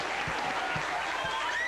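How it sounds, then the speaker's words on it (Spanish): Studio audience applause greeting a band on a television talk show, a steady wash of clapping that fills the whole moment at a moderate level, with a few low thumps underneath. "Un aplauso para ellos, por favor."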